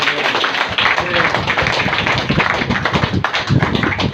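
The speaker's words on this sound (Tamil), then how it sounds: "கைத்தட்டி தேவனை மகிமைப்படுத்தலாம்" A church congregation claps their hands together in a dense, continuous patter that fills the room, loud and close, with voices faintly mixed in beneath the clapping.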